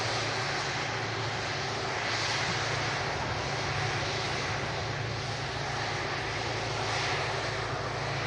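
A Cathay Pacific airliner taxiing at Manchester Airport gives a steady, broadband jet-engine rumble and whine that holds at an even level from start to finish, with no talk over it.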